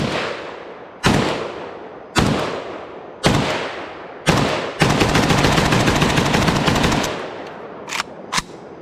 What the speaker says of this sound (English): Last mag with the SAR-1 at dark, no flash hider.